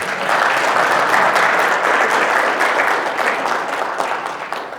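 Applause from a seminar audience of young pork producers, dense and loud, holding steady for several seconds before fading slightly at the end.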